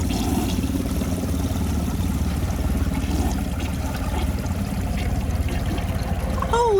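A 1977 Universal-Rundle Citation low-bowl toilet flushing, a loud, close, continuous rush and gurgle of water running through the whole stretch.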